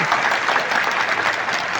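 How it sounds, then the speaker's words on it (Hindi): Dense, steady applause from a large crowd welcoming brides at a mass wedding ceremony, loud and continuous throughout. "जोरदार ताली बजा करके स्वागत करो।"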